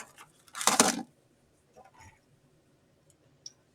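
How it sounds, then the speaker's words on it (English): A mineral specimen is dragged across a piece of glass in a hardness test, making one short, gritty scrape up close, followed by a few faint clicks and taps in near silence. "Okay, that one makes a mark in the glass. It scratches it."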